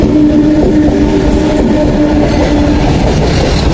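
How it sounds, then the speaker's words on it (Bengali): A train pulls into Bally Ghat station, a loud, steady rumble of wheels and rail clatter filling the whole stretch with no break. "ট্রেন এসে যায়"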